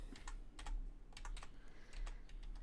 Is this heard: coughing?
no